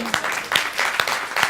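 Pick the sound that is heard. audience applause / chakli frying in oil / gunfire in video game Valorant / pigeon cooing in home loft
audience applause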